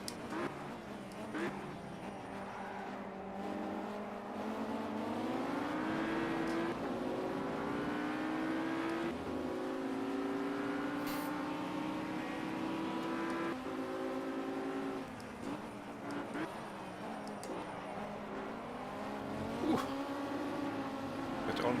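An Audi R8 V10 race car in Project Cars laps the Zolder circuit, and its engine drones and climbs through rising and falling revs. A commentator talks over the engine steadily.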